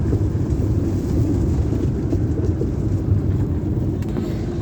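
A car drives steadily along a road past villages in hilly country, its low engine and road rumble constant and close with a wind-like hiss, no talk over it.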